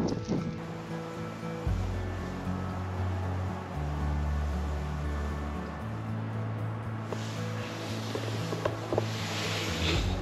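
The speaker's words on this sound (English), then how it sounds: "it's very windy today. And that wind coming off that ocean" Steady wind off the ocean on the Outer Banks roars and buffets the microphone, with a low rumbling drone underneath and occasional thumps, continuous throughout.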